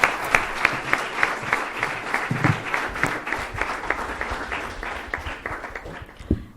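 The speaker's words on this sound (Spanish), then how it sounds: "Un aplauso, por favor, para el conferencista." An audience at a citizen participation forum applauds a lecturer after the talk: steady, dense clapping from a sizeable crowd that carries through the whole stretch and thins slightly toward the end, with a few faint voices underneath.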